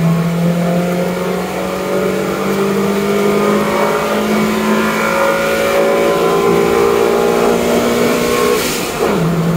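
A Toyota Yaris engine revs in second gear at high elevation, its loud, close note climbing steadily in pitch for several seconds before the throttle drops off at the end.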